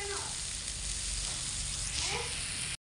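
Cowpeas (vanpayar) roast in a pan, giving a steady close hiss and sizzle with faint stirring scrapes before the sound cuts off abruptly.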